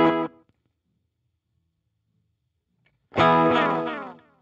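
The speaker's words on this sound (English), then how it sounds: "So now we have a very short slapback echo." Electric guitar played through an analog delay pedal and the Peacekeeper, set for a short slapback echo: a brief distorted chord cut off, a near-silent pause, then a loud strummed chord ringing out with a quick doubled repeat fading away.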